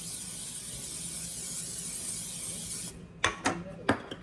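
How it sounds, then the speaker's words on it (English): Cooking spray hisses steadily from a can onto a greased baking pan in a kitchen for several seconds, then a few short sharp knocks and clatters follow. "Let's spray the pan."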